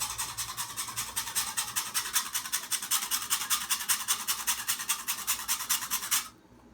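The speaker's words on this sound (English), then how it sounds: "So I'm gonna grate the brown sugar." A block of piloncillo, the Mexican panela brown sugar, is rubbed hard across a grater in fast, rhythmic rasping strokes, loud and close, stopping abruptly near the end.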